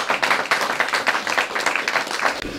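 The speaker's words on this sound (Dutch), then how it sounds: "Holland, een enorme applaus." Enormous audience applause at a Dutch award ceremony, dense steady clapping throughout at close range with no talk over it.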